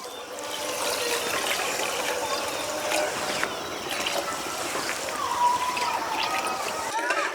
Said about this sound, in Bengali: এই বাটি মেপেই দিয়ে দেবো 2 বাটি জল